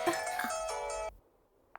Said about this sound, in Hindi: लगता है तेरे पिताजी का फोन है।